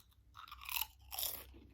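Close, loud crunching as a big potato chip is bitten and chewed during a sub sandwich and chips meal, two dense bursts of brittle crackle about half a second apart.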